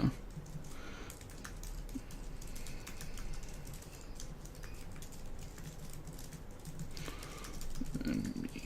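A character name being typed on a computer keyboard in Final Draft 10 screenwriting software: steady, fairly quiet key clicking with a few louder taps, continuing throughout.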